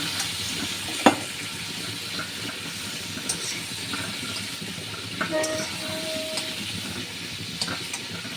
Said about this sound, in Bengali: চিংড়ি মাছ তো বেশি ভাজতে নেই, সেই আমরা সবাই জানি